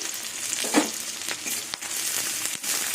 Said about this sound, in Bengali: এবার কুচুনো পেঁয়াজ দিয়ে দেবো এবার কুচুনো লঙ্কাগুলো দিয়ে দেবো